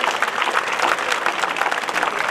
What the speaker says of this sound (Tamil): பெரிய கைத்தட்டி.